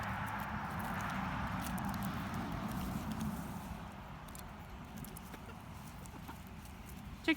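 Free-range backyard chickens with a rooster cluck softly and steadily in the background, a low, continuous farmyard murmur heard outdoors with no voices.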